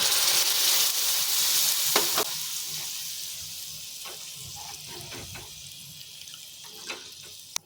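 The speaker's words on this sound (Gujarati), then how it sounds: "તો હવે આપણે આમાં થોડું પાણી ઉમેરીશું" Water poured into hot spicy sev usal masala in a pan sets off a loud hiss that fades into softer sizzling, broken by close stirring clinks and scrapes.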